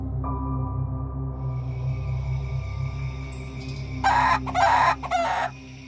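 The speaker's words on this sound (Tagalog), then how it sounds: "narinig na namin ang huni ng mga manok" Chickens cluck softly against a steady low hum, then a rooster crows loudly near the end in a few quick, strained bursts.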